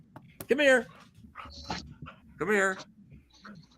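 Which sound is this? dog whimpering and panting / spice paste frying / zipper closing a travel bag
dog whimpering and panting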